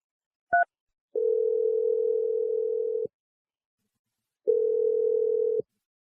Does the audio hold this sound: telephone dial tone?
yes